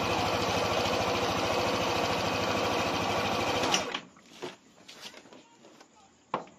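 A Yamaha NMAX scooter engine with a new CVT belt runs with a steady, close, rapid pulsing idle, then cuts off abruptly, leaving quiet clicks and handling noises.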